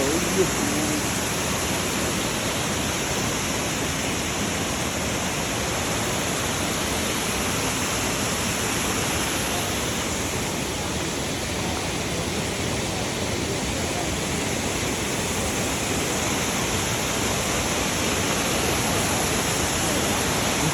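A waterfall in Martvili Canyon, Georgia, roars as a steady, dense wash of rushing water, loud and unbroken for the whole stretch with no voices over it.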